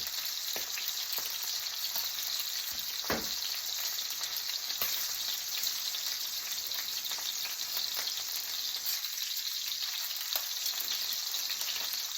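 Brined steaks sizzle and fry steadily in a hot pan, a continuous close crackle with a few sharper pops and spits, and no voices.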